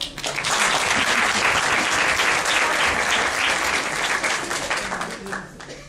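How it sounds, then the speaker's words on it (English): At a university book launch, the audience applauds a speaker with loud, dense clapping that swells at the start and tapers off at the end. "Round of applause."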